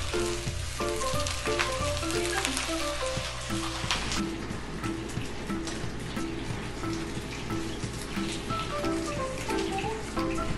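Cubes of rice fry in oil in a skillet, giving a loud, dense, continuous crackling sizzle with popping spatters that holds steady throughout, with no voices.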